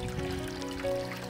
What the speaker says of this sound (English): Can you hear the babbling of the brook?